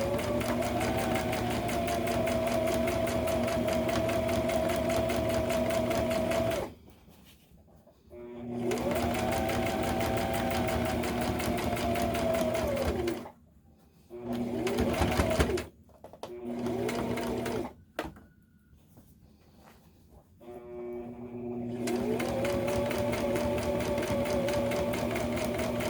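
A sewing machine runs steadily as it stitches a backpack near the edge, loud and close, in long sustained runs broken by short pauses, with no talk.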